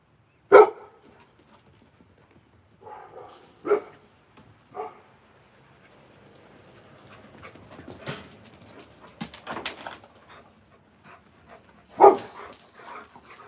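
Dogs bark in sharp, scattered bursts separated by quiet gaps, with softer whimpers and panting in between. They are fairly close, and no one speaks.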